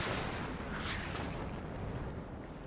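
Artillery rumbles in the WARNO wargame, a dense, heavy roar of explosions and booming fire that continues without a break.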